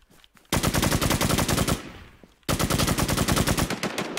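Rapid automatic machine gun fire in the online survival shooter Infestation: a loud, tightly spaced burst that trails off, a brief lull, then a second sustained rattling burst close by.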